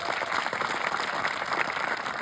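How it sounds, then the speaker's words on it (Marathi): Dense, steady applause from an audience at a Birsa Munda birth anniversary event at a government tribal boys' hostel in Hingoli, filling the whole stretch with close, even clapping and no voices. "त्यासाठी पहिल्यांदा जोरदार टाळ्या वाजवल्या."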